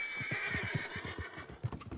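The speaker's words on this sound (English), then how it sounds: "We're gonna get off our horse. We're gonna tell it to go away." Horse neighing in a video game set along an open road, a whinnying call layered with steady clip-clop hoofbeats, close and fairly loud throughout with no talk.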